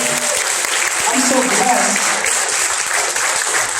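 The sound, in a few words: audience applause for the musicians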